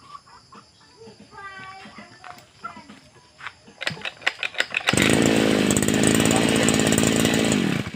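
An old grass cutter's small two-stroke engine fires on a single pull, with rooster clucks and a few sputters first, then a loud, steady, buzzing idle running close by without a break.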